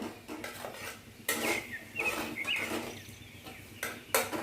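Minced garlic stirred lightly in a pan, with repeated metallic scrapes and clanks of a utensil against the pan at an uneven pace, fairly quiet and close, with no talking.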